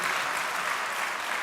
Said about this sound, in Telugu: సంతోషంతో చప్పట్లు కొట్టి దేవుని స్తుతిద్దాం